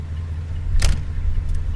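A car engine runs as a steady low idle hum in a radio drama sound effect, with a brief mechanical clatter near the middle and a faint click later, no voices.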